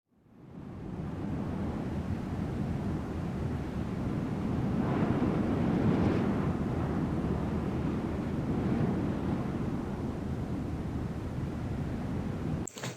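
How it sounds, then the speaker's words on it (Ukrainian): Steady, roaring wind blows continuously, rising slightly in the middle with low rumbling gusts, then cuts off abruptly. "Правильно, це звук вітру"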